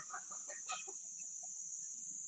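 A hen squawks and hollers in short bursts while a rooster chases her on a farm in the early morning. The calls are clear over a constant high insect drone and start loud, then thin out to scattered, fainter clucks.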